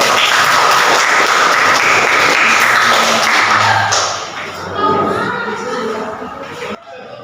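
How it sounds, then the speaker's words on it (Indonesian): Students applauding in a school classroom, a loud burst of clapping that fades after a few seconds into quieter scattered taps and murmuring voices. "Tepuk tangan dulu."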